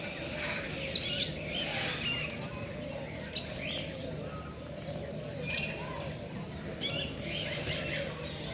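A colorful bird calls at Lake View Park in Islamabad, sending bright repeated chirps and tweets over a steady outdoor hum, with faint cooing underneath and no voices.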